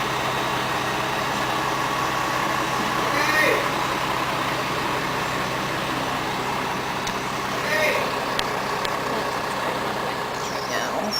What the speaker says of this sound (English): See that construction truck?